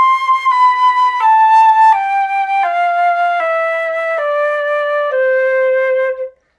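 A solo flute plays a clean descending series of sustained notes, each stepping lower in turn, clear and close with no other sound.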